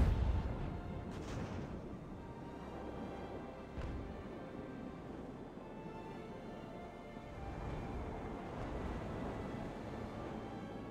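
Cannon fire from a sailing warship's broadside in Ultimate Admiral Age of Sail, a few deep booms rolling out over a dull, rumbling sea-battle backdrop, moderately loud and spaced apart.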